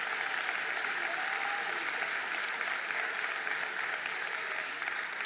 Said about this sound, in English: Let's give them another round of applause indeed.